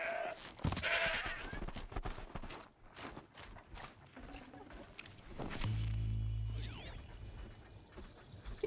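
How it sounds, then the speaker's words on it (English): Faint goat bleat in the Horizon: The Frozen Wilds video game, heard from beyond a hill over quiet ambient game sounds and light footsteps. "We have a goat on the other side of the hill."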